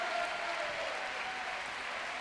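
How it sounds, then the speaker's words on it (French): An audience applauds the players after the final of an amateur championship match in Nantes, a dense, sustained round of clapping that fills the room at an even level. "On peut les applaudir."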